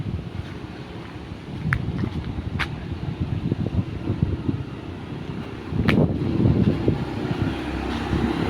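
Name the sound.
strong wind blowing leaves after typhoon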